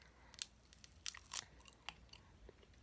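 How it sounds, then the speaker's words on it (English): A pomegranate being peeled by hand at close range: faint, intermittent crisp tearing and crackling of the rind in short bursts, with small crunchy snaps over a quiet background. "And I'm just gonna like peel it."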